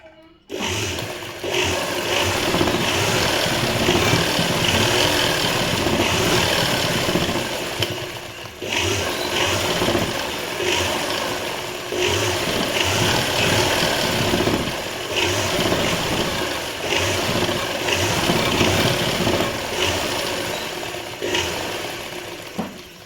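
A sewing machine stitches fabric to finish an edge without an overlock machine, its motor whirring steadily up close in long runs broken by a few brief pauses, with no voices.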